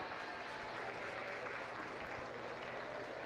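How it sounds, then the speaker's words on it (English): Steady, dense applause from a crowd in a county fair livestock show arena after a market lamb class, holding an even, continuous wash of clapping for the whole stretch with no voices on top. "Give them a round of applause."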